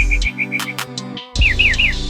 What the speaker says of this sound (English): Listen to the beautiful birds chirping.